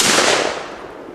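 A single sharp gunshot bang at family target shooting, loud and close, its broadband report decaying over about a second with no voices.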